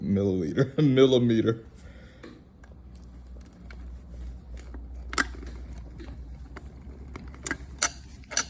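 A 14 mm wrench twists the base of a teeth whitening light, giving scattered close metallic clicks and ratcheting ticks after a brief burst of speech at the start.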